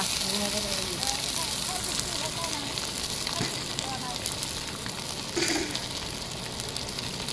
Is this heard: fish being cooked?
yes